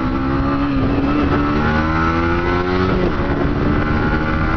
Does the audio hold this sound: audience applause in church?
no